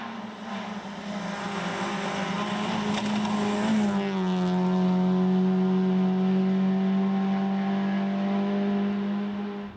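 A rally car racing flat out on a stage, its engine note holding high and steady, then dropping to a lower sustained drone after a shift, close and loud throughout with no talking.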